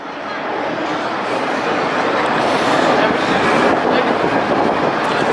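A roller coaster train rumbles past at Thorpe Park with a steady, rising roar and rattling, loud and close, building toward the middle and holding.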